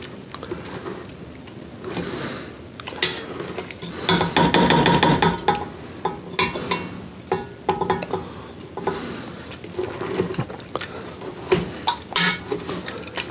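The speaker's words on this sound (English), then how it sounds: "I would like to just to mash these just a little bit" Blackberries being mashed in a cooking pot produce uneven squishing and scraping knocks, with a busier flurry of clanking stirs partway through, close and fairly loud.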